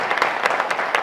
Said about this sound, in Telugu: సంతోష్ గార్ల ఆధ్వర్యంలో చేరుతున్న సందర్భంగా వారి గట్టిగా చప్పట్లతో కాంగ్రెస్ పార్టీలోకి